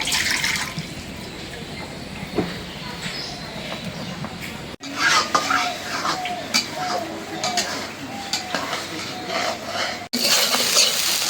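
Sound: egg frying and stirring in a pan

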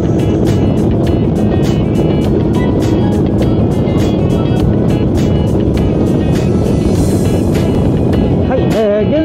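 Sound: Yamaha Serow motorcycle riding on toll expressway

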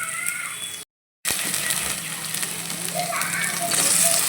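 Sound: sautéing in a pan before adding tomatoes

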